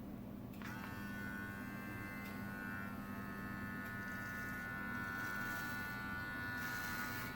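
Electric hair clippers fitted with a 12 millimeter comb cut hair in a home haircut, giving a steady close-up buzzing hum that runs unbroken throughout with a bright motor whine.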